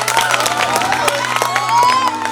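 Audience clapping and cheering at a live Maithili song performance, a steady patter of crowd applause beneath a singer's amplified melody.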